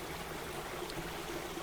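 A clear, shallow river running past a flat plot of land in Sleman, heard as a steady, even broadband wash of flowing water with no voices.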